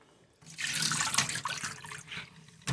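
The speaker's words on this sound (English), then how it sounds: "and now we can dump out the water." Water poured out of a jar in a gushing splash lasting about two seconds, starting abruptly after a quiet moment and tapering off, close by.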